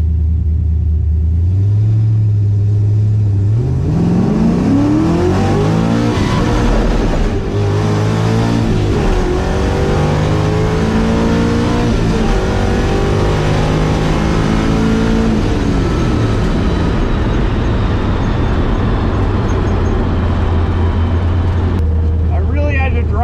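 A drift car on a drag strip roars loudly and close by as its engine climbs steeply in pitch through the gears, staying strained and high near the rev limiter for a long run.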